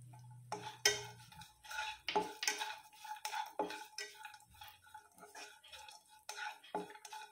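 Raisins being stirred in ghee in a kadhai for bottle gourd halwa give repeated light scraping and clinking of a spoon against the pan, an irregular close rhythm with no talk.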